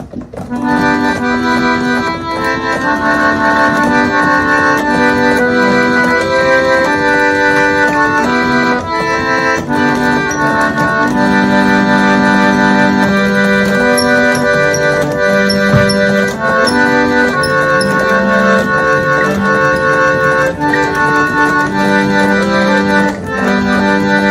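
A hand-cranked reed roller organ plays a steady, sustained tune with chordal harmonies, continuous and fairly loud throughout with no voices.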